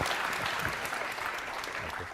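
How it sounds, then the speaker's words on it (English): Fairly faint, steady clapping from an audience at a hackathon closing ceremony, sustained throughout without voices standing out. "Can we get another round of applause for our panelists?"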